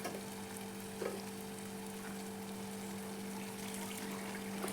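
Onion frying in a pan until golden brown for a Malvani jackfruit dish, a faint, even sizzle with a steady low hum underneath and a slight scrape near one second, no one talking.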